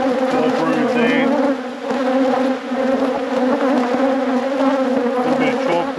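A dense, steady drone of honey bees swarming around an opened hive with brood, eggs and larvae, loud and continuous throughout, with a faint voice briefly underneath.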